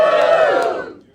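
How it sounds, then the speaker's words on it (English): Comedy club crowd gives a brief, loud collective cheer and shout that fades away within about a second. "And give us a cheer if you haven't been here before."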